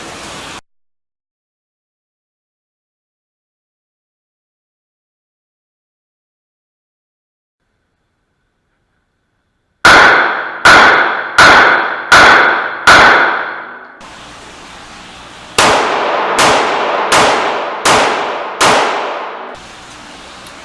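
Pistol fire from a Smith & Wesson M&P 9 Shield Performance Center with Blazer aluminum 115 grain FMJ: after a long silence, two quick strings of about five sharp, loud shots each, evenly spaced and decaying fast.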